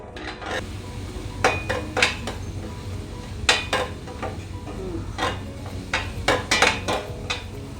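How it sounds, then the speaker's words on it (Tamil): Finely chopped onion sautés in a pan for palak paneer, with a low, constant sizzle and an irregular series of close clinks and scrapes as a spoon stirs against the pan. No one speaks. "I've taken 1 fine chopped onion. We will fry it. We will saute it until it turns brown."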